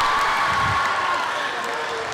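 Applause and cheering from an audience at a middle school talent show, a steady wash of clapping and a few whoops that stays fairly even throughout.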